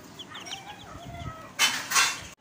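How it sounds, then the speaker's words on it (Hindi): Young chicks and chickens give short chirps and clucks nearby, ending in two louder bursts of squawking. "ये हमारे चूजे हैं, ये हमारे चूजे हैं भाई।"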